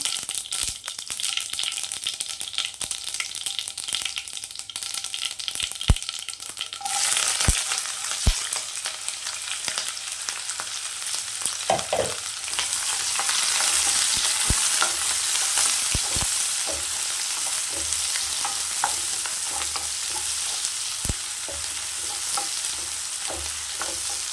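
Mustard seeds, urad dal and small shallots fry in hot oil for a goat liver pepper fry, a steady loud sizzle with sharp popping crackles and spatula scrapes, growing brighter and busier partway through.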